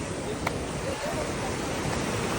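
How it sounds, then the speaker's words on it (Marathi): Water rushes and pours at Bhekrya, a steady, loud wash of broadband noise close to the microphone, roughened by some wind. "आता पाणी बघा तुम्ही कसलं वाहतं इथं."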